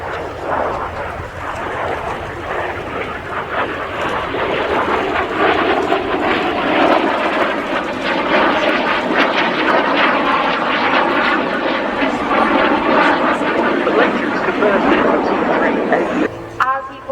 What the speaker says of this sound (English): he converts his speed into height to perform his first manoeuvre, the Hammerhead